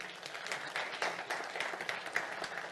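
Faint audience clapping at a corporate venture summit welcomes a biotech CEO onto the stage, a soft and even patter of many hands.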